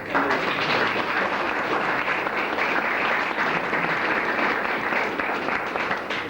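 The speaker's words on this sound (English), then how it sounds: "let's give them a round of applause" Outdoor spectators at the opening of a Beechworth railway weekend give the hosts a steady, even round of applause, a continuous wash of clapping with little talk.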